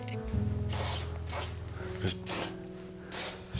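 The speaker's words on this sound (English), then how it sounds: "spray it down with some one step." One Step cleaner sprayed onto the parts of a mid-90s Specialized Rockhopper bicycle in four short hissing bursts over a low background hum, with someone speaking briefly at the start.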